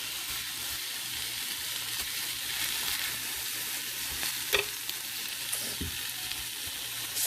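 Onions frying in a pan give a steady, close sizzle that runs the whole time, with light stirring or scraping sounds and a brief clatter near the middle, and no talking.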